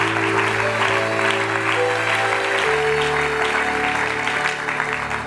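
Broadband applause and cheering from a church congregation, dense and steady throughout, with sustained musical tones humming underneath.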